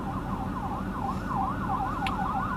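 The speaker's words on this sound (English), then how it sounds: "sorry about all the sirens, there's an accident in front of me up here" Wailing emergency vehicle sirens at a road accident rise and fall in a steady repeating cycle over low traffic rumble, moderately close and continuous.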